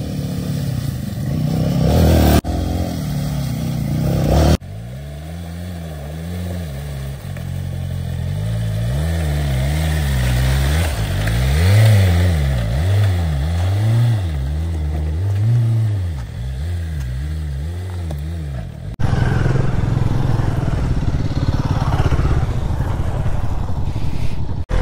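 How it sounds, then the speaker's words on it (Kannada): A BMW S1000RR superbike off-roading on rough ground near a water crossing idles, then revs in repeated rising and falling bursts for over ten seconds before settling into a steadier, loud, close engine drone. "S1000RR ಆಫ್ ರೋಡಿಂಗ್ ಮಾಡ್ತಾ ಇದ್ದೀವಿ"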